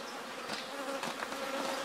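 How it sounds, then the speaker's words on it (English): Honeybees buzz steadily inside a hive box during a Snelgrove artificial swarm, a faint, close, continuous hum heard alone. "We've got all the bees in pretty much in this box at the moment"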